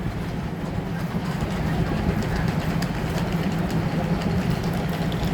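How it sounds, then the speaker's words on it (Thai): A local train rumbles steadily at close range at a large railway station in Korat, Thailand, with a low droning hum and faint rattling of cars, continuous throughout with no voices. "มากับขบวนรถท้องถิ่น 431 ต้นทางสถานีชุมทางแก่งคอย"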